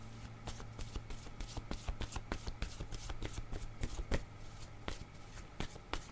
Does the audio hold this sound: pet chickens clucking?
no